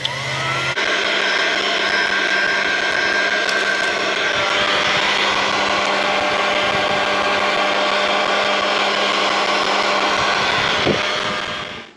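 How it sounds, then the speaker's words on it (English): A hot air gun shrinks heat-shrink tubing over joined trailer-light wires, a loud steady blowing roar that holds evenly throughout and cuts off at the end. "Now we're just going to use the hot air gun to shrink the heat shrink on it."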